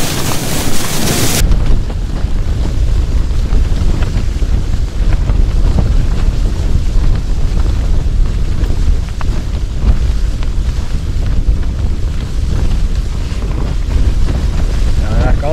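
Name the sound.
wind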